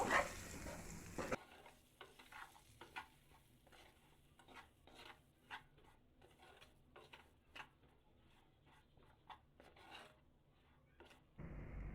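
A java plum pickle mixture stirred and lightly fried in a pan: a quiet, rhythmic series of spoon scrapes and taps, one every second or so, over a faint low sizzle.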